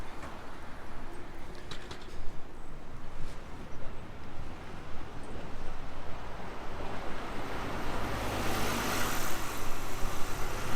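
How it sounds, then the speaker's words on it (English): The 83 bus passes along a French Riviera street, a broad engine and road rumble building toward the end over steady wind noise, with no voices. "That was the 83 bus, which takes you from here to the beach we were just at."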